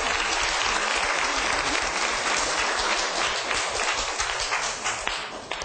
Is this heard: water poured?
no